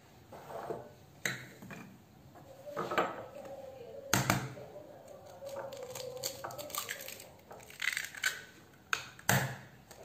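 A knife cuts two bananas into pieces in a bowl, giving close, scattered clinks and taps against the dish with soft squishy cuts between them, no talking.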